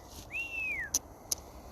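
A single faint whistle tone glides briefly and then drops in pitch, followed by two soft clicks.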